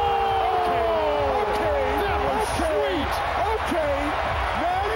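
Loud arena crowd roaring and cheering after a slam dunk at the 2005 NBA All-Star Slam Dunk Contest, a dense sustained wall of noise with shouts and whoops, while commentators talk over it.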